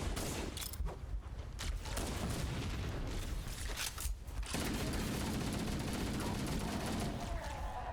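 Rapid gunfire bursts and booms from the video game Halo: Combat Evolved, dense and continuous with heavy blasts in the first half, then a steadier roar of fire with some faint voice underneath.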